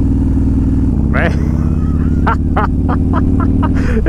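A Harley-Davidson Road Glide with a 130 cubic inch engine, a loud close low rumbling idle and throttle blips, with a rider talking over the steady engine throb.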